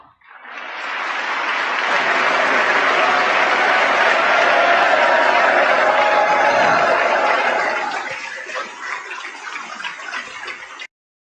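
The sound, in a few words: audience applauding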